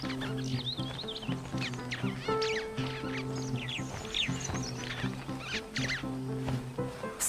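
A flock of birds squabbles during the dry season in Zambia's Luangwa Valley: dense, overlapping chirps, clucks and squawks rise and fall continuously over a steady low hum.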